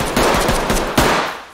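A quick automatic burst of gunfire rings out in the tactical shooter game Ready or Not, followed by a second loud shot. The shots sound close and sharp, and no one speaks.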